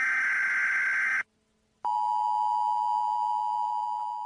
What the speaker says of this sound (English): you'll hear like a beep, beep. It's like the emergency alert system